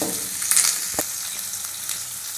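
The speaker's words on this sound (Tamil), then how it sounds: "பூண்டு, வரமிளகாய், கருவேப்பிலை போட்டு நல்லா வெங்காயம் வதக்குறதுக்கு வதக்குங்க." Onions, garlic, red chillies and curry leaves sauté in hot oil in a pan. A close, steady sizzle carries a few sharp crackles and spatters, and nobody speaks.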